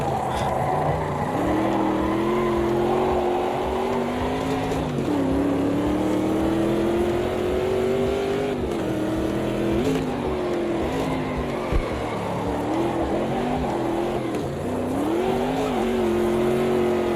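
A race car with a 7.2-litre V8 engine in the Automobilista 2 racing game roars continuously, its pitch rising and dropping repeatedly through gear changes and corners over a long stretch.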